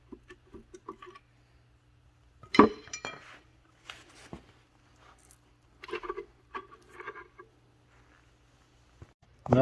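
A small bolt drops into a Caterpillar RD-4 engine during disassembly: a sharp metallic clink and a short patter of rattling, followed by scattered faint knocks and taps against metal in a quiet workshop.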